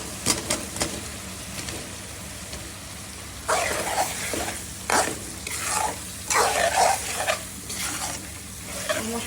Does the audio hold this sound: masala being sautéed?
yes